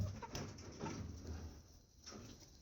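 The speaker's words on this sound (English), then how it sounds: "I think that's a bird, not a rat," A bird near a chicken coop gives soft, low cooing calls, a few faint repeated notes over quiet outdoor background noise.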